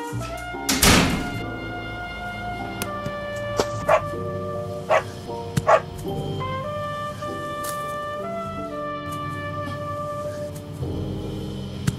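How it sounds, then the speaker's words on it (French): A pet dog barks in short, separate bursts during play, a loud bark near the start followed by several sharper yips spread across the stretch over a steady background hum. "jouer avec mon chien, Bob."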